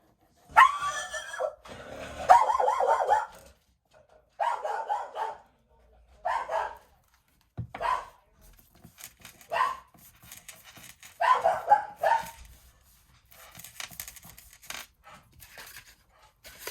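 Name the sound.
dog barking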